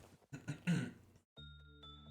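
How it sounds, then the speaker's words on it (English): A short burst of rough coughing and throat clearing lasting about a second, fairly close, followed by a quiet pause and then a low steady hum. "My God, why am I coughing?"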